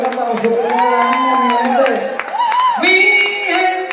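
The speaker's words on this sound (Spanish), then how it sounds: "Un aplauso, por favor, que se oiga para nosotros." A loud crowd cheering at a concert, with shouts and whoops rising over scattered clapping.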